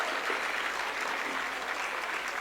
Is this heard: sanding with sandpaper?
no